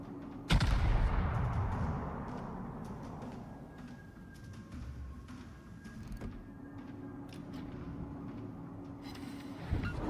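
A heavy naval gun salvo booms from a warship in the World of Warships video game, one loud blast near the start rolling into a long rumbling decay. A faint mechanical hum and a few small clicks follow.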